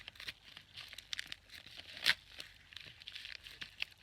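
A parcel holding Aida cross-stitch fabric is torn open by hand, giving several soft crinkling, ripping bursts of paper and plastic, with one sharper tear near the middle, close up and without voices.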